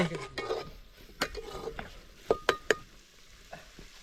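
Chicken frying in a pan gives a soft, steady sizzle while a spoon stirs it, making scattered scraping strokes and a few sharp metallic clinks against the pan.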